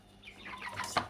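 Young white broiler chickens, 23 days old, cluck on a small weighing scale, a few soft calls rising to a sharper squawk, fairly faint and close.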